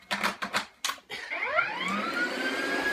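A vacuum cleaner with a power nozzle starts up after a few short clacking bumps, its motor rising in pitch to a steady, fairly loud whine that holds to the end.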